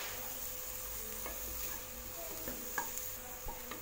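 Green chillies and onions sautéing in a pan for brinjal chutney give a steady sizzle, with a few stirring scrapes and small taps near the end, close and alone.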